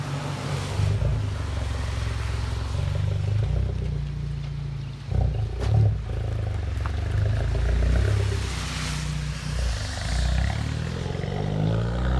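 A 2019 Hyundai Veloster N fitted with straight pipes idles close by, giving a steady, loud low rumble with slight pulsing and a few brief blips, with no talking.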